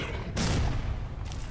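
An explosive charge detonating in Metro Last Light, a loud broadband blast with rumbling low end, followed by a second fainter burst near the end, over a quiet underground backdrop.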